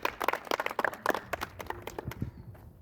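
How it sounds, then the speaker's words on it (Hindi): A small audience claps for a volunteer at a Vipassana meditation centre, a scattered round of applause that fades out over a few seconds. "एक बार ताली बजाएंगे प्लीज़ इनके लिए विशेष तौर पे।"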